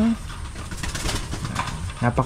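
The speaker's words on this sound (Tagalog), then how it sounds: "Huwag kayong magpapakain sa kalapati" Pigeons coo in low, throaty bursts, loudest near the end, over a busy background with people talking.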